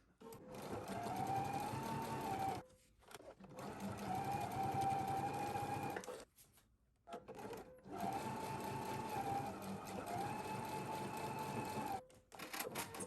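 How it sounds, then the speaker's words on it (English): Sewing machine stitching down both sides of quilted bag handles, running in three steady bursts of several seconds each with brief pauses between, close and fairly loud with no talking. "I'm going to run over to the machine. I'm going to stitch down both sides to make it nice and neat,"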